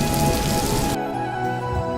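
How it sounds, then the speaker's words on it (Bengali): Rain falling steadily, a dense loud hiss of drops that shifts to a softer, thinner patter after about a second, with no voices. "কি সুন্দর বৃষ্টি"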